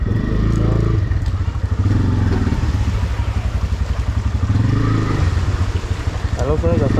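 A trawler boat's engine runs loud and close throughout, a steady rhythmic chugging with rattling clatter, continuous for the whole stretch.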